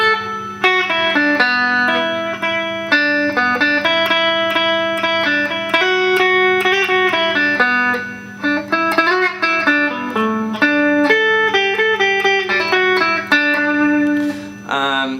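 A lead electric guitar with light distortion plays a solo section, a flowing line of sustained notes and quick melodic runs, close and loud throughout, with no talking.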